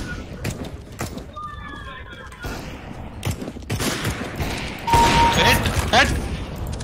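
Gunfire in the video game CS:GO, with sharp shots scattered through the clip and a burst of rapid fire toward the end, heard alongside game sounds while people talk over it.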